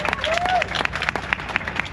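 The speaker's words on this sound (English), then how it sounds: "we give him a big round of applause" A Dublin tour group on a Viking tour gives a short burst of applause for a newlywed couple, with distinct claps close by and brief voices mixed in.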